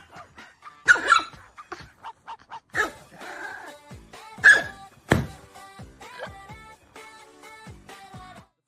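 Small dog barking in several sharp, loud yips and woofs with pauses between, alongside thumps and clatter in a home setting.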